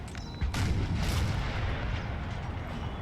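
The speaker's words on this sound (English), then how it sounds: "We've got artillery providing some cover." Artillery booms in a Napoleon: Total War battle against the Austrians. A heavy blast hits near the start, followed by a sustained rumbling barrage of cannon fire and distant gunfire.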